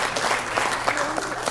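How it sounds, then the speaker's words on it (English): An audience breaks into clapping for a woman named Patricia, a dense steady patter of many hands at close range, sustained throughout with faint voices mixed in. "give Patricia a round of applause"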